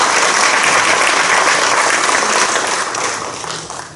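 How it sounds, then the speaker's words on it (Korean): An audience at a church general assembly candidates' policy debate claps loudly and continuously, a dense wash of applause that thins and fades toward the end. "우리 세 분을 위해서 다시 한번 박수 한번 해주시겠습니다"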